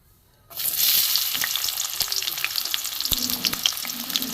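Chopped onion dropped into hot mustard oil in a wok bursts into a loud, dense sizzle that holds steady, with a few faint clinks and no talk.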